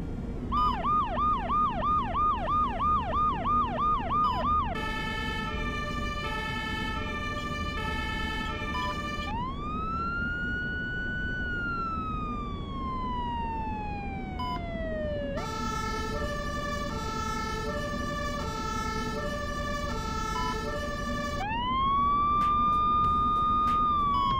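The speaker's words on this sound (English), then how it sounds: "we've added a series of sirens which can be toggled using the control panel" Synthetic fire engine sirens in the VBS2 video game cycle through several patterns: a rapid yelp, a rising and falling wail, and alternating two-tone hi-lo blasts, loud and continuous.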